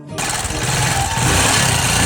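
A faulty Bajaj Rouser 180 motorcycle engine catches abruptly and runs on, a loud, rough, rattling drone close by that grows slightly stronger.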